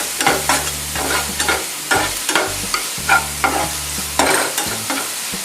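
Onions and tomatoes fry in a pan for shahi paneer with a steady sizzle under repeated scraping stirs, while a low motor-like hum drones at intervals.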